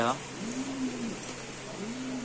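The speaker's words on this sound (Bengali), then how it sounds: "ওই যে একটা কালা কবুতর" Pigeons at a pigeon market give low, rolling coos, several soft repeated calls close by over a steady background murmur.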